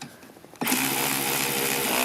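A 15 mm wrench or driver spins the wiper arm nut back down on a Jeep Grand Cherokee, starting after a half-second lull as a loud, steady, high whirring buzz that runs unbroken to the end.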